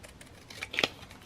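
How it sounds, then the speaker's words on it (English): Scissors snip through a paper card piece in a crafting session, a few soft, close cuts ending in one sharper snip, quiet and alone. "I'm going to cut this out"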